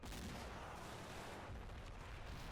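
Artillery fire in the WWII strategy game Men of War: Assault Squad 2, a continuous dense rumble of distant booms and gunfire blended into a constant roar.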